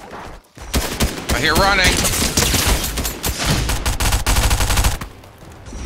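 Rapid bursts of gunfire in the video game Fortnite crackle loud and near, with repeated volleys and fusillades over several seconds while players talk over the shooting.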